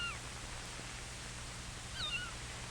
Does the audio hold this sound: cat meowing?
yes